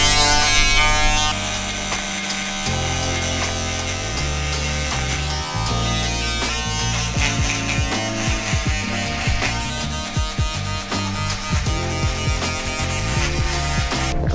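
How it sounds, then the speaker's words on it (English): An electric shaver trimming a beard buzzes loudly and continuously at close range, its pitch shifting as it moves across the skin, with no talking. "Just gonna use my shaver to finish the job."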